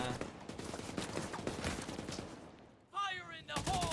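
Gunfire in The Division 2 on PC, rapid automatic bursts and dense overlapping shots that thin out before a short pause, then more weapon and effect noise returns, loud and close, with a voice talking over the action.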